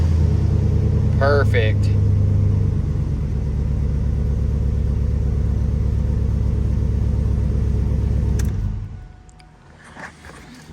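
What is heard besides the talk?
2003 Chevy Silverado engine starting after fuel pump replacement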